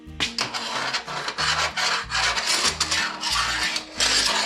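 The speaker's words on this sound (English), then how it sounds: "So let's try the screw in here now." A screw being driven into wood while building a workbench, with a low pulsing drill whir under dense, gritty rubbing and grinding, close and loud throughout, with no talking.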